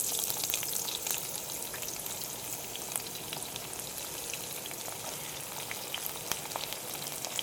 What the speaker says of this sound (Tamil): இப்போ வந்து நறுக்கின 4 பெரிய வெங்காயத்தை சேர்த்திக்கலாம்.